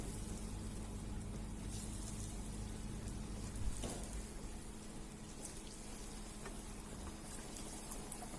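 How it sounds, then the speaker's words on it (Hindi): Paneer coated in bread crumbs sizzling in hot oil, a steady crackling hiss with scattered pops, fairly quiet and unbroken, with no one speaking. "अब आपके पनीर फ्राई होने जा रहे हैं"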